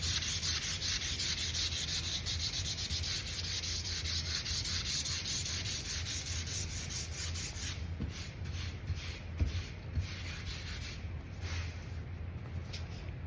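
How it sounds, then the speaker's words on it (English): A piece of sandpaper rubs steadily over a surface being smoothed for a stencil, a continuous close, loud hiss of back-and-forth sanding that eases slightly toward the end, with no voices. "I'm gonna take my piece of sandpaper and sand it so that way we can get a stencil to stick here and make it nice and smooth"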